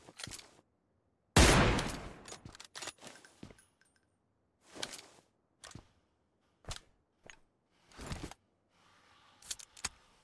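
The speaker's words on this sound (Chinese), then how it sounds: "来开枪了！" Bursts of gunfire from the PUBG battle-royale game, sharp loud volleys and single shots scattered with silent gaps, one long heavy burst early on, with no voices.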